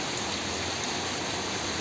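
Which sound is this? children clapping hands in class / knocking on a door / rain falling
rain falling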